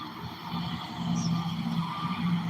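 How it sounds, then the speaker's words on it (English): A car drives past on a roadside, its engine and tyre rumble swelling steadily and holding close for a couple of seconds. "Car coming by."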